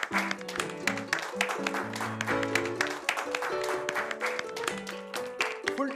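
Studio audience applause for a contestant on the Marathi TV game show Tu Chaal Pudha, steady clapping running throughout under music and voices.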